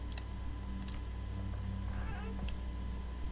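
A cat meows a few times in the video game Spooky's Jumpscare Mansion, short soft calls over a constant low hum of game ambience.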